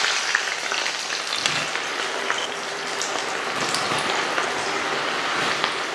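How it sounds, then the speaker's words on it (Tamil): Thinly sliced onions fry in hot oil in a kadai, a fine, busy crackle and patter like rain on a surface, moderately loud and steady without talk. "நல்லா கோல்டன் கலர் வர வரைக்கும் வறுத்து எடுத்துக்கலாம்."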